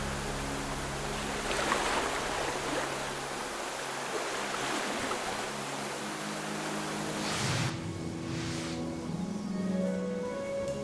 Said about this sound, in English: watching the water rush down consistently